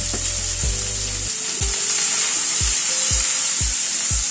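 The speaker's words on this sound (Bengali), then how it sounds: "নুন হলুদ দিয়ে আলু কুমড়োটাকে আগে একটু ভেজে নিচ্ছি।" Potato and pumpkin chunks fry with salt and turmeric in a pan, a steady bright sizzle running throughout while a spatula strikes and scrapes the pan in regular knocks, close and loud with no talk.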